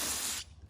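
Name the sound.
spraying cleaner into threaded hole on Mustang hood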